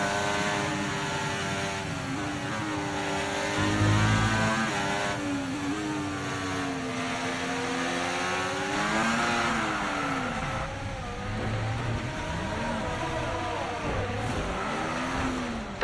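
Formula 1 race car engine from the F1 24 video game, a loud high-pitched wail rising and falling through gear shifts as the car accelerates past on an overtake at the Hungarian Grand Prix, continuous and close with no talk.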